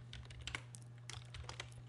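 Quick, light keystrokes clatter on a computer keyboard while an expression is entered in Adobe After Effects, a steady patter of close clicks over a low hum with no talking.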